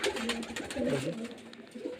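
Giribaj pigeons from Murshidabad coo close by in soft, repeated warbling calls over a faint background of movement and rustle.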